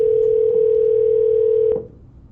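A telephone line tone plays during a live call, a single sustained, loud, even tone lasting under two seconds before it cuts off into quiet line noise.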